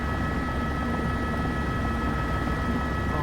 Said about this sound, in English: Helicopter November 11816 is 7 miles north of the field.